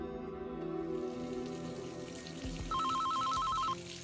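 A telephone rings with a rapid electronic trill, a loud repeating burst standing out clearly over a steady background hum in a Filipino drama scene.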